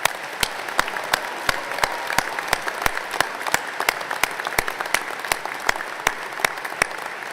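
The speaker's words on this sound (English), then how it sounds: "Please join me in giving another round of applause for our veterans" Commencement audience applauding veterans, steady rapid clapping from a large crowd with distinct sharp claps punctuating the wash, even and sustained throughout.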